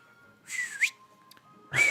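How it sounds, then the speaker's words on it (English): Whistle call in the Bowser's Fury video game, two bright rising tones with a short gap between, moderately loud over a faint steady background hum, with no talk. "Need a whistle."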